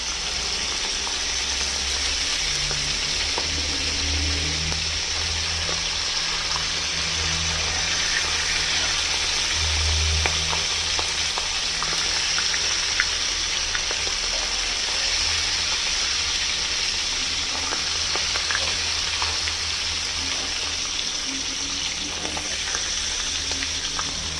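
Pieces of salted hilsa fish fry in a pan with a loud, steady, crackling sizzle that holds evenly throughout, close up, with scattered pops and no one talking.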